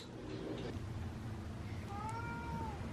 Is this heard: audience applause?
no